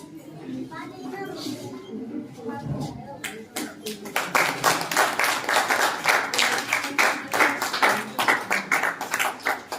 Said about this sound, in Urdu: تالیوں سے استقبال کرتے ہیں